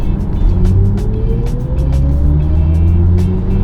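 A BMW i4 M50 electric car in sport mode accelerates hard on a small road, a steady loud drive hum with a whine rising slowly in pitch under dense road and wind roar throughout.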